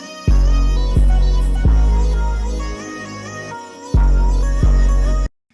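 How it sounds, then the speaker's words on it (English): Booming 808 bass hits land in a slow, spaced pattern under a sustained melodic sample in a hip-hop beat, the low notes sliding and decaying, with a brief drop where only the sample continues before the bass returns. "you can hear it right now just with the sample and the 808"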